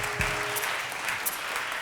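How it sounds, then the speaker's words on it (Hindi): Studio audience applause at a televised Ramazan quiz show, a steady, moderately loud wash of clapping lasting the whole moment with no talk over it. "थोड़ी सी तालियां जरा जोर से बजनी चाहिए"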